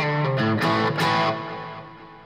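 Electric guitar played through a Boss Katana amplifier with its booster effect switched on: a few driven, sustained notes and a chord ringing close and loud, then decaying alone.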